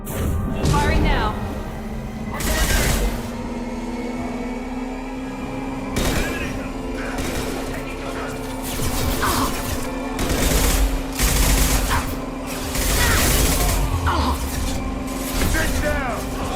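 Bursts of gunfire in the video game Mass Effect 2, loud repeated volleys in short clusters over a steady low hum, with a voice talking in between.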